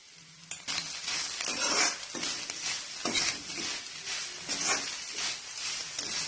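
Grated coconut is stirred in a hot pan for coconut rice, with repeated scraping strokes of a spoon over a continuous soft sizzle.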